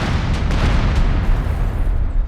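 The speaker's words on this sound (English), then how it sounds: "Fires a single shot." A Sherman tank firing a shot in Company of Heroes 3, a loud, dense, rumbling boom of battle noise filling the whole stretch, heavy low end throughout with no clear separate blasts.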